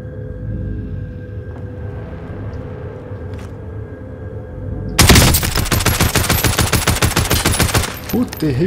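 Rapid rifle fire in the Warzone video game, with a steady rumbling backdrop giving way to a long, loud burst of evenly spaced automatic shots close by.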